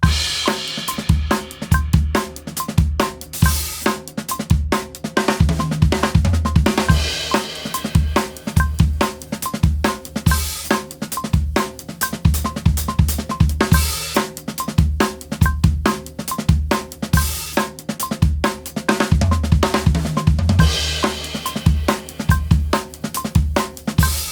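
Fast, dense linear drumming on a full kit, with rapid single hits spread across drums and cymbals in a continuous driving pattern at a cranked-up tempo, loud and close.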